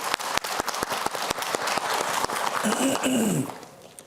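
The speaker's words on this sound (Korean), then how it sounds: "큰 박수로 나오세요. 환영해 주시죠." An audience applauds to welcome an orthopedic specialist onto the stage at a Korean health lecture: a dense wash of clapping with distinct sharp claps near the front, and a voice rising over it before it fades out.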